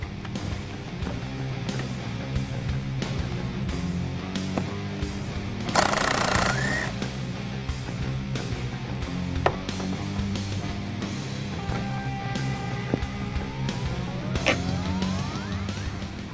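A nut being taken off the top of a 2015-2023 Ford Mustang shock absorber during a spring swap, with steady rattling, whirring tool noise, one loud hissing burst, and clanks and ratchet clicks, close and alone without talk.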